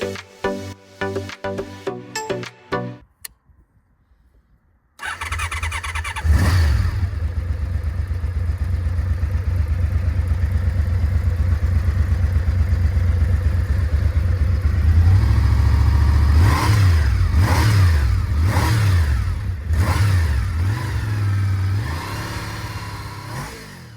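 A 1987 Honda VFR 750F RC24 motorcycle engine revs loudly and steadily after a brief quieter lead-in, with repeated rising and falling throttle blips in the latter half.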